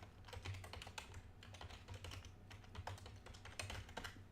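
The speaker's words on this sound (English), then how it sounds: "I'll go ahead and type in that." Rapid typing on a computer keyboard, a steady run of close, crisp key clicks with brief pauses, no voice over it.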